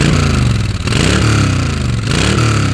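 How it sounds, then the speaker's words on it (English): A 2008 Honda VTX1300 motorcycle engine runs close up with a steady, deep low rumble and a couple of slight dips in pitch, with no voices over it. "Listen to the motor. Virtually silent,"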